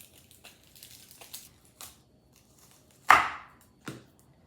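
An onion is handled with a knife on a kitchen board: a few scattered dry crackles and scrapes as its papery outer layer is peeled, then one sharp loud cut or crunch and a softer one after, with quiet gaps between.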